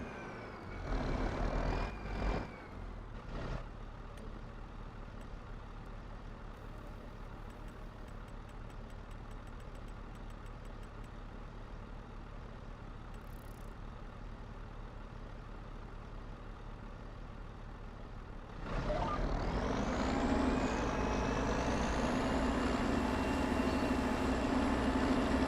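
A tractor engine with a planter attached runs steadily in Farming Simulator 25, a continuous low idling drone that rises to a louder, revved tone near the end, with no voices.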